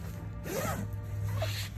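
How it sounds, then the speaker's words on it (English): A zipper runs along the expandable top of a motorcycle luggage rack bag, one quick close rasping pull lasting under two seconds. "you can zip it down where it pulls it down tighter."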